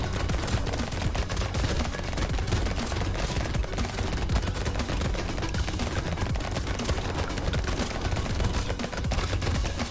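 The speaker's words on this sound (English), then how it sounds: "these kind of wizard enemies shoot their bullets in a random direction, not directly at you" Wizard enemies firing bullets in Brotato, a dense, continuous clatter of rapid small shots and impacts, loud and busy from start to finish.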